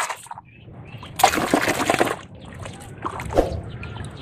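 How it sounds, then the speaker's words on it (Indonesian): Water splashes and sloshes over toy trucks, including a cement mixer and a bus, as they are rinsed clean, with a loud burst of spraying in the middle and softer splashes after it. "Wow, kita siram-siram teman, kita bersihkan."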